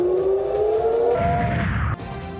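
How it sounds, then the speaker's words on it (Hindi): An air raid siren wails in Tel Aviv during a missile attack, a rising tone holding steady before shifting into a rumbling, distant boom-like wash, cutting off abruptly near the end. "तिल अबीब में सायरन बज उठे।"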